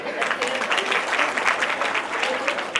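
An audience gathered for a temple tower inauguration ceremony breaks into a steady, sustained round of clapping, dense and even from start to finish.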